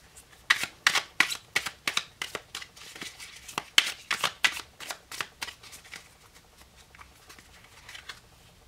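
A deck of tarot cards is shuffled by hand, a quick run of crisp riffling flicks and soft slaps heard close and alone, tapering off toward the end.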